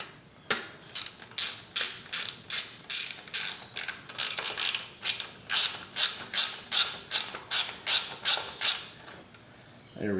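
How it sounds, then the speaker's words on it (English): A hand ratchet clicks in quick, even bursts, around twenty strokes close up, as it tightens a bolt on the exhaust of a YZ125 two-stroke dirt bike. "We'll go ahead and throw a bolt in there."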